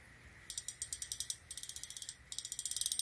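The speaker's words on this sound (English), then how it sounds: "Wow, when you rotate, it's a nice clicking sound." Ratchet clicking from a vintage-style metal personal desk fan as its head is rotated: three quick bursts of crisp, evenly spaced mechanical clicks, close and fairly loud, with no talking.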